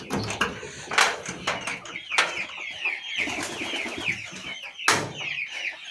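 Broiler chickens clamor for food at a backyard farm, a dense, continuous chorus of clucks and squawks with sharp bursts, some wing flapping and scuffling close by, no talk.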